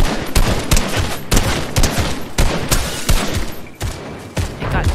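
Gunfire from a weapon in the video game Fortnite rings out as loud, rapid bursts of repeated shots in an uneven rhythm, close up and dominating the scene.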